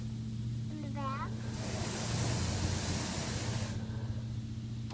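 At a car wash, a broad hiss of spraying water hits the car for a couple of seconds, swelling up and then cutting off, while a low machine hum runs underneath and a voice is faintly heard.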